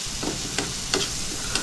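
Anda tawa masala with a little water fries in a pan over high heat, giving a steady, close sizzle broken by a few soft scrapes of stirring.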